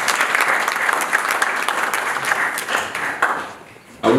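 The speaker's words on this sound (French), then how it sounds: "est-ce qu'on peut applaudir pour Nadine, s'il vous plaît?" An audience claps for Nadine, a lively, fairly close burst of many hands that stays dense, then thins and fades before a voice cuts in at the very end.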